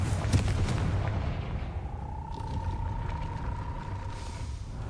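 A Confringo fire spell blast in the video game Hogwarts Legacy, a crackling fiery burst at the start, then a rumbling hiss under a long rising tonal whine that fades out.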